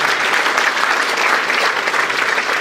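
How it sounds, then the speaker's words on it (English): An audience at the Sacramento Region Innovation Awards applauds, a loud, dense, continuous patter of many clapping hands filling the room, with no speech over it. "so give it up for Dynasty Video"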